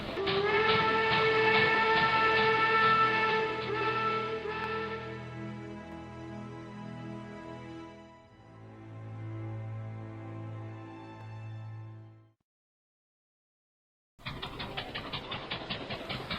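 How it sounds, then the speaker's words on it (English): A loud, shrill steam whistle blows long and steady, fades into a lower rumbling tone, pauses in silence, then rhythmic steam puffing starts. "he heard a shrill whistle"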